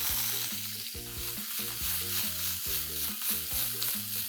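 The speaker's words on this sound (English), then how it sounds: "Once the oil is nice and hot, into this I'm going to add in 1 capsicum diced." Diced capsicum fries in hot oil in a pan for a pickle-style mixed vegetable dish, a dense steady sizzle under quick rhythmic spatula scrapes, close and continuous, no voices.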